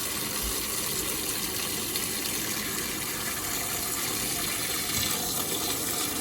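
Filtered water poured into a cooking pot for noodle and beef soup, a steady, close gushing splash that runs unbroken throughout, with no talking.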